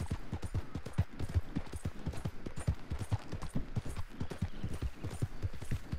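Galloping horse hooves in Red Dead Redemption 2, a steady rapid clip-clop rhythm that runs close and loud throughout, with no talking over it.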